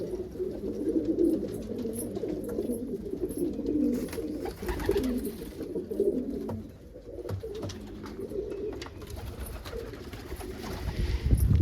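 Almond pigeons cooing repeatedly in a low, murmuring rhythm, close and steady, with several birds overlapping throughout and a faint rumble toward the end.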